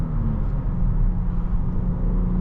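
An Audi S5 Avant pulls hard uphill from about 40 to 100 km/h, its engine a loud, continuous low drone and road rumble heard from inside the cabin with no pause or break.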